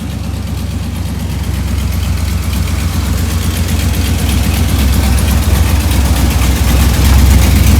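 A 1987 Chevrolet Caprice Landau with a small-block V8 idles close by, a loud, steady low rumble that grows slightly louder over the span, with no voices.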